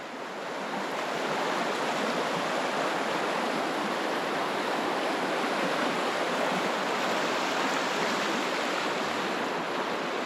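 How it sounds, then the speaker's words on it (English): Strong river current in Lapland rushing steadily and loudly, a dense continuous roar of turbulent water that holds an even level throughout with no voices. "The water level actually doesn't look that bad, but the current is fairly strong."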